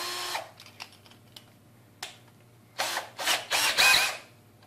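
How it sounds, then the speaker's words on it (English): A Kimo 20V cordless drill with a large auger bit whirs in short bursts, ending with several loud grinding pulls as the bit chews through wood, close by. "let's drill through here and see what it can do"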